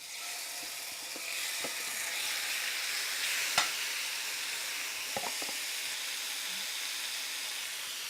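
Pork pieces fry in an oil-coated skillet with a steady soft sizzle throughout, broken by a few sharp clicks and clinks of utensils against the pan.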